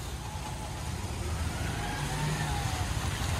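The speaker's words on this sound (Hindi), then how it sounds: "ये भाई का बुलेट जा रहा है, बुलेट का नया मॉडल।" A new-model Bullet motorcycle rides past outdoors, a low, steady engine rumble at moderate distance under broadband street noise, with no talking.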